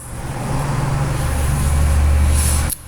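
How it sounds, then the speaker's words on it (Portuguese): A car passes close by on a busy avenue, a loud rumbling road noise that swells and holds for a couple of seconds before cutting off abruptly, with no talk. "passa um carro e muitas das vezes acaba passando um carro muito barulhento"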